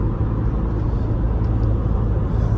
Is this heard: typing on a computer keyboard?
no